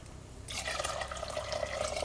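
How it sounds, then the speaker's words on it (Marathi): Water pours steadily into a cooking pot on a wood-fired stove, a sudden rushing splash that starts abruptly and holds at even strength, close by and alone. "अजून थोडंसं आपल्याला पाणी घालायचं"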